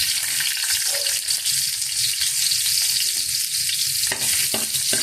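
Ginger hits hot cooking oil in a pan, giving a loud, steady bright sizzle with occasional stirring scrapes, up close and without any talk.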